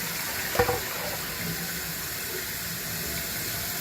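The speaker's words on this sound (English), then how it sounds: "I'm just going to dump that water off." Rinse water from washing sushi rice is poured off into a kitchen sink, a brief splash followed by a steady running-water wash that continues evenly to the end.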